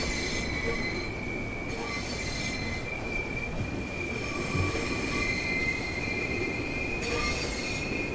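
Class 395 high-speed electric train in Train Sim World 2, its wheels squealing with a sustained high whine over steady rumbling rail noise, heard continuously and fairly close.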